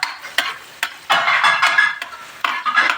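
Garlic sizzles in hot oil in a pan while being stirred, with a continuous close frying hiss broken by several sharp scraping clanks of the utensil against the pan.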